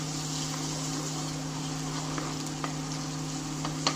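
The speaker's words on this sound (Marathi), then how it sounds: "लसूण आणि जिरे आपण तेलावर छान थोडा वेळ परतून घेऊया." Garlic paste and cumin seeds sauté in hot oil for a Marathwada-style brinjal curry, giving a steady, close sizzle with a few faint scraping taps, no voices.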